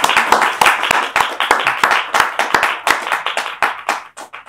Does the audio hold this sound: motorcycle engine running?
no